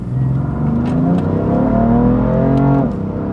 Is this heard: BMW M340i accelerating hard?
yes